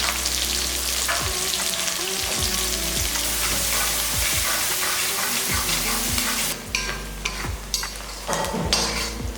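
Large cut onions fry in a pan for chicken fry, a constant loud sizzle broken by repeated scraping stirs of a spatula against the pan.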